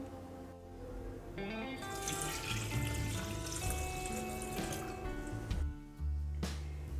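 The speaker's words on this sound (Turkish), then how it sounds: "Limon kabuklarımızı kavanoza doldurduk ve su ilavesi yapıyoruz." Water runs from a tap into a jar filled with lemon peels, a steady filling splash with ringing tones that rise as the jar fills, pausing near the end and then starting again.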